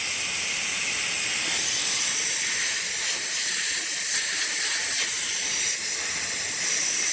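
Air hisses steadily out of a vehicle tire through a quick release deflator valve, a loud, continuous broadband rush with slight wavering and no pauses.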